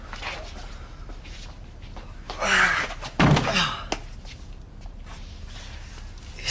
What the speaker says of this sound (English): I'm gonna break the door down.